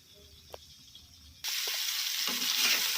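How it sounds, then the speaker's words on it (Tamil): Onion and tomato sauté in a pan on a low flame with a little water. After a quiet start, a sudden loud, steady sizzle breaks out and continues close up with light stirring clicks. "இந்த வெங்காயம் தக்காளி எல்லாம் நல்லா வதங்கி வர மாதிரி கொஞ்சமாக தண்ணி வச்சுட்டு கேஸை லோ ஃப்ளேமில் வச்சுருங்க."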